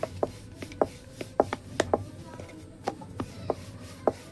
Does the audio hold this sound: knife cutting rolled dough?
yes